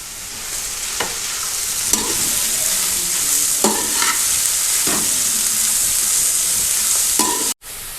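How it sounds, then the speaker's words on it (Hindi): Cabbage, capsicum and carrot fry in a pan for a restaurant-style chicken spaghetti, giving a steady, close sizzle punctuated by sharp utensil clicks and scrapes as the vegetables are stirred. "अब हम इसमें यह ऐड करेंगे और इसको मज़ीद जो है वो 1 मिनट तक फ्राई करेंगे।"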